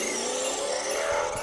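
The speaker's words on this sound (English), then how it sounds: "let's try this Raptor RC truck out" A Raptor RC truck in sound mode drives past with a loud, steady synthetic engine roar and whine, dense and continuous with no talk over it.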